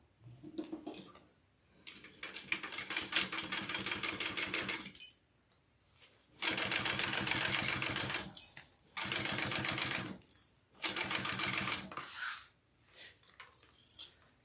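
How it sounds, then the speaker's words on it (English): A sewing machine stitches a garment in several rapid, buzzing bursts of a few seconds each, separated by short pauses, close and clear with no talking. "let's sew this one on."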